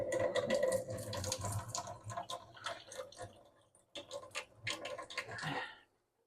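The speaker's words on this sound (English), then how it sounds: "So I'm going to rinse these beans real quick." Tap water runs steadily over beans being rinsed in a kitchen sink, a close, continuous splashing rush that briefly dips before resuming, with no talking.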